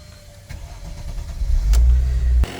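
A 2004 Mercedes C240 engine starts: a brief starter crank builds into a loud, steady idle rumble close by, which cuts off near the end.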